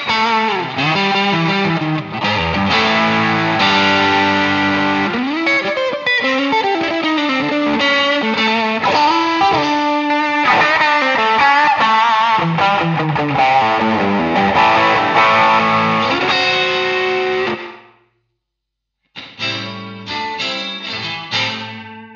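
Electric guitar played through an IK Multimedia X-Space reverb pedal set to maximum delay and size, a loud, dense wash of sustained chords and notes that cuts out abruptly near the end, then resumes briefly after a short silence.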